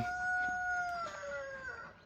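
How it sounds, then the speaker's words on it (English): A rooster crows once in a long, drawn-out call, slightly distant, with a faint outdoor hush behind it. "Thanks, Rooster."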